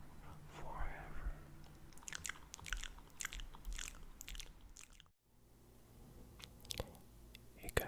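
Soft, close ASMR lip smacks and wet mouth clicks come in quick irregular clusters, mixed with faint whispering, then a brief silent gap before more clicks.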